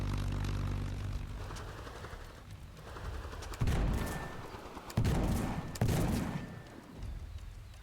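Cannon fire in the video game Black Skylands booms in three heavy, spaced blasts over a steady engine-like drone, loud and close.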